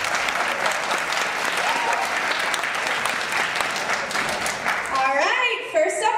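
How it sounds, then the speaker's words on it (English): An audience at a Mr. GS 2018 pageant claps and cheers in sustained loud applause, which fades near the end as a voice starts talking over a microphone. "A round of applause for that."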